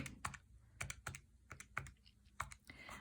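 Quick bursts of keystrokes tap out numbers on a computer keyboard, close and clear, in irregular clusters of clicks with short pauses between them.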